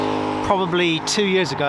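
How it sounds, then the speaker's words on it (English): Road traffic on the M4 motorway by the Wilts & Berks Canal near Swindon makes a steady roar and passing whooshes beneath someone talking close by. "again, apologise for the traffic noise"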